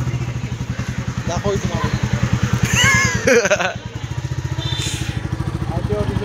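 A motorcycle engine runs close by with a steady, fast, throbbing pulse that holds throughout, while people talk over it.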